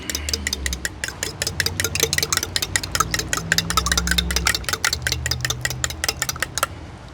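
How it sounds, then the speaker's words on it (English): Four eggs being whisked in a bowl for venison meatballs: a fast, steady run of crisp clicks, close and fairly loud, keeping an even rhythm throughout with no talking. "4 eggs. We're going to go ahead and whisk those up real quick"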